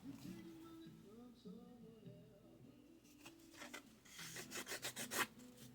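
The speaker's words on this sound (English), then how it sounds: "Give this a little bit of a sand just to get some of the roughness off where it was attached to the sprue." Sanding a plastic part from a Tamiya 1/35 A34 Comet British cruiser tank model to smooth a sprue attachment point, soft close rubbing strokes that build into quick rhythmic rasping toward the end.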